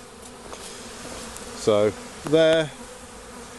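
Honeybees fan at the hive during a swarm, a steady close buzzing drone throughout, with someone speaking briefly over it.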